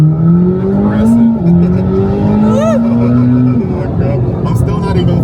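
A Chevrolet Corvette C8 pulls at part throttle, its engine note rising and dropping through a couple of shifts, loud and close from inside the car, with someone talking over it.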